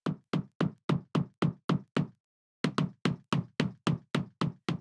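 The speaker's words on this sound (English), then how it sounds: "A similar system is used on the impact sounds when the ball hits the enemy." Repeated ball impacts striking an enemy in the video game Roundrick: crisp knocking thuds in a steady fast rhythm, two bursts of about eight hits each separated by a short pause, clean and close with no voices.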